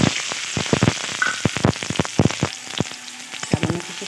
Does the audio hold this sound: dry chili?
yes